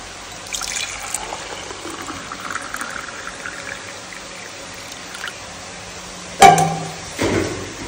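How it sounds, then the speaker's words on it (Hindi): Hot water pours steadily into a glass at home with a soft, continuous trickling stream, followed near the end by a couple of sharp clinks and knocks. "तो मैं 1 गिलास गर्म पानी अपना डाल लेता हूँ।"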